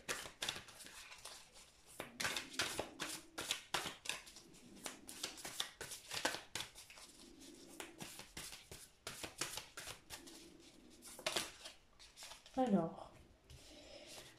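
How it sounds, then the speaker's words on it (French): A deck of tarot cards being shuffled close up, with rapid repeated riffling bursts and soft rubbing between them, one faint vocal sound near the end. "Je vais remélanger mon jeu."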